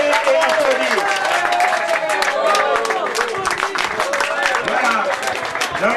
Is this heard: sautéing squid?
no